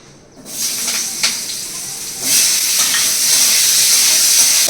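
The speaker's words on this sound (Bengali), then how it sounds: "কড়াইতে তেল দিয়েছি, এবার আলুগুলো ভেজে নেবো" Potatoes hit hot oil in a wok and burst into loud, steady sizzling that swells after a couple of seconds and keeps crackling close by.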